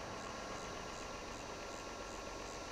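A tractor engine idles in a farming video game, a steady low rumble with a rhythmic pulsing throb, close and continuous, with no talking.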